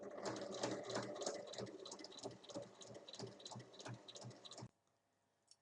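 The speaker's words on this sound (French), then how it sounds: "il faut venir piquer sur la ligne" Sewing machine stitching along a marked line while making a fabric catch-all tray, a close rhythmic mechanical chatter that runs for several seconds and then stops abruptly into near silence.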